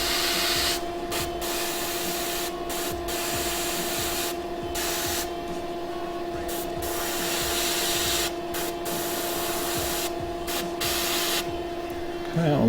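An airbrush sprays paint onto a miniature in a steady, continuous hiss with short gaps where the trigger is released, over a constant compressor hum close by.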